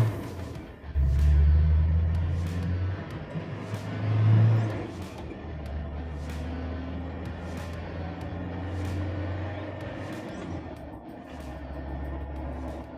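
A 1997 Land Rover Defender short-wheelbase accelerates on an empty road. Its engine revs up in two surges, then settles into a steady rumble with wind and road noise from inside the cabin.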